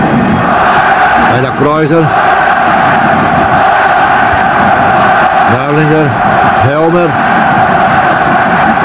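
A German Bundesliga stadium crowd at a Bayern Munich versus Schalke 04 match roars steadily throughout, a dense continuous wash of cheering under a commentator's voice calling the play.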